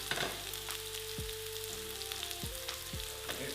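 Sliced shiitake mushrooms sauté gently in a pan with a quiet, even sizzle and a few soft scrapes and taps from a spoon.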